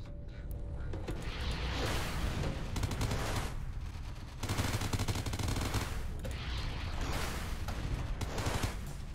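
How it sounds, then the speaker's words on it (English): Rapid, sustained Gatling gun fire in the space combat game Everspace, loud and close, coming in dense bursts with brief dips between them over several seconds. "I love the Gatling gun there."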